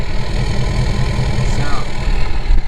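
A 6.7 Powerstroke diesel pickup with a Flo Pro race pipe idles with a low, steady rumble close by, its tone even throughout the short stretch.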